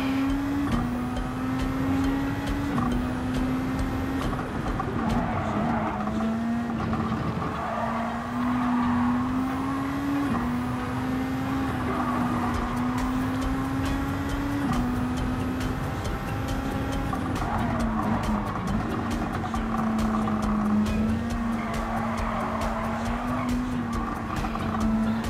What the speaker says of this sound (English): And we push the gas.